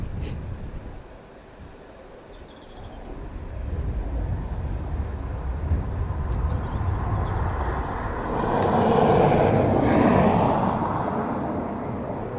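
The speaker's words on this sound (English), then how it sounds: "So it's basically the E195 with bigger engines" A KLM Embraer E195-E2 airliner with large, fuel-efficient engines at Dublin Airport, heard as a broad engine rumble that builds steadily and swells to its loudest near the end, with no talking.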